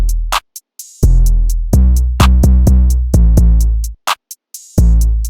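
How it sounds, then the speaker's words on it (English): Hip-hop beat built in FL Studio: booming 808 bass under a clap with an open hi-hat added, its hiss ringing through the pattern, short bass-free breaks between phrases, loud and without voices. "And then just an open hat, so it sounds like this."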